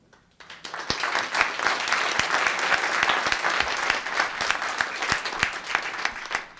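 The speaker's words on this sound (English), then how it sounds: "applause is lovely, and it makes me feel good" Audience members at a town council meeting in Los Gatos break into steady applause, a dense continuous clapping that swells quickly and holds for several seconds.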